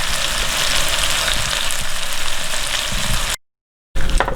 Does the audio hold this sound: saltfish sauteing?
yes